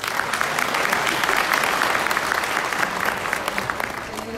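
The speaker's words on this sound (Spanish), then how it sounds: "Un aplauso." Steady crowd applause at a public municipal meeting in Gómez Palacio, dense clapping from many hands held at an even level throughout, with no voices rising above it.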